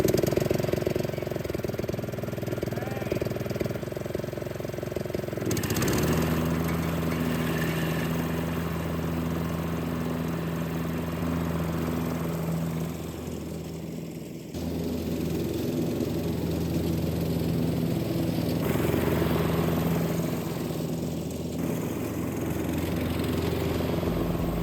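A lawn mower engine with a repaired blade spindle starts up and runs steadily, a droning mid-pitched hum that rises after a few seconds, briefly dips mid-way, then continues loud and close, with some talk.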